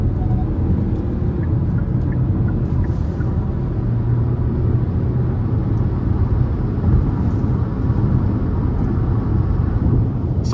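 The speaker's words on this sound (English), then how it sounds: "I'm gonna give it some throttle here" A 2023 Hyundai Tucson SEL with the 2.5 engine merges onto the interstate under moderate throttle, producing a steady loud rumble of engine and road noise heard from inside the cabin.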